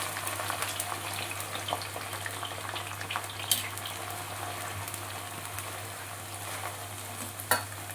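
Okra (lady finger) frying in oil gives a quiet, even sizzle punctuated by a couple of sharp isolated pops.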